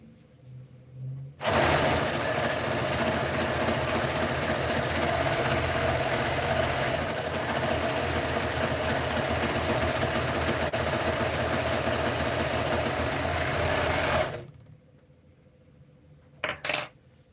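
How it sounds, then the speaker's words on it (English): An overlocker runs steadily for about thirteen seconds, a loud continuous motorized whir while sewing a seam, starting and stopping abruptly, followed by a couple of faint clicks. "Still need to overlock that seam."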